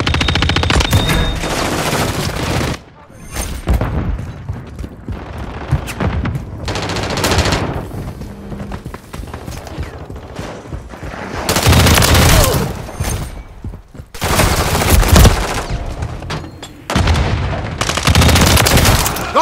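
Call of Duty gunfire in a Hardpoint match: bursts of loud automatic weapon fire come in several volleys with short gaps between them, close and dense, with no one talking.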